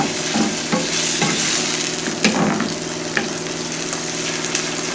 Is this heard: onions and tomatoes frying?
yes